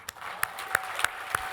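At an evening military charity gala, a handful of loud, separate claps ring out at a slow, uneven pace over a soft wash of wider audience clapping.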